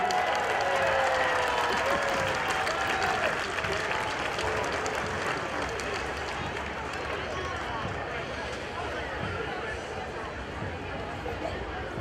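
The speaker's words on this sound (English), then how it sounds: "And the crowd goes wild once again." Crowd at a Fourth of July parade in Zelienople cheering and clapping: a loud, continuous wash of applause and shouts with voices mixed in, fairly close and sustained throughout.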